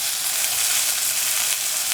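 Tomato pieces sizzle steadily in a hot pan, a dense, even frying hiss that holds close and loud from start to finish with no voices.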